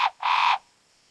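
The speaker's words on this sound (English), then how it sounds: "Toucans call from the canopy with their distinctive croaks." Toucans in a cloud forest canopy give a short croaking call, a brief note followed by a longer harsh burst, fairly close and clear with no other sounds.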